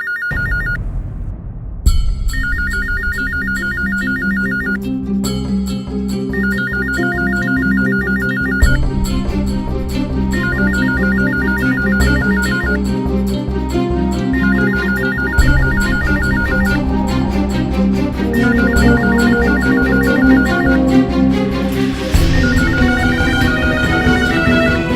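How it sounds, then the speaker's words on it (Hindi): A phone ringtone plays a repeating electronic melody in a home, loud and continuous for the whole stretch, with no voices over it. "उसी का फोन होगा, मैं देखती हूँ।"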